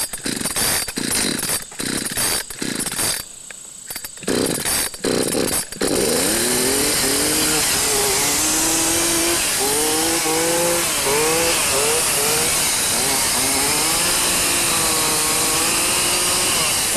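A chainsaw runs loudly and close, first sputtering and cutting out in choppy bursts, then revving steadily with rising and falling engine pitch as it works.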